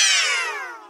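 A single drawn-out meow spoken by a voice imitating a cat, sliding downward in pitch and fading over about a second, loud and alone, in a read-aloud of a children's picture book about a cat and his shoes.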